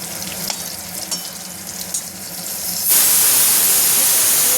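Pointed gourd fries in hot oil with a low crackle and light scraping. Partway through, a loud, hissing sizzle erupts and holds steady, close up and without talk.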